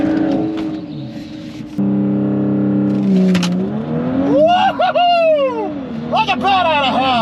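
A tuned Audi B9 S4 with an Integrated Engineering Stage 1 tune running E85 revs hard at a drag strip, its engine note climbing and dropping through rapid gear shifts, loud and close, with a person talking excitedly over it.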